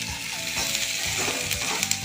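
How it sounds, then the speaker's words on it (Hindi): Capsicum frying in a pan, a loud, continuous close-up sizzle with light stirring movement underneath and a couple of small pops near the end, without speech. "देखिए शिमला मिर्च फ्राई हो रही है"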